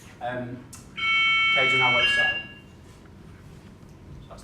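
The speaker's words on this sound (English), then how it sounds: "So that's the fire alarm." A fire alarm sounds during a seminar, a steady electronic tone with stacked harmonics lasting about a second and a half, loud over the room, while a presenter speaks before and after it.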